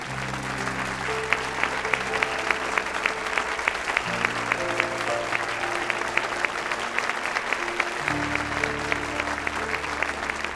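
Steady applause from an audience welcoming Zainab Aslan onto a stage, dense clapping throughout under background music.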